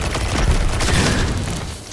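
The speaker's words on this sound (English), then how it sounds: "that little explosion, that's the micro homing missile" A micro homing missile explodes in Destiny 2, in a loud, dense burst of booming blasts and rapid gunfire-like crackle that stays heavy for the whole moment before easing slightly at the end.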